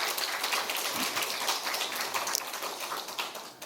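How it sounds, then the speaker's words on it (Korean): A church congregation applauding during a Sunday worship service, a dense, steady wash of many hands clapping that holds evenly and then fades slightly toward the end, with no voices over it. "우리 하나님께 감사와 영광의 박수 올려드리겠습니다"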